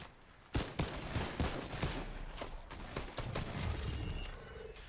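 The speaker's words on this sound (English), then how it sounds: "See those shots? I shot the wall" A burst of video-game gunshots hitting a wall, a rapid run of sharp cracks at moderate level, with one louder shot near the start and scattered follow-up bursts.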